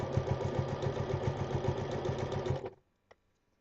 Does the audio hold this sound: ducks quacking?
no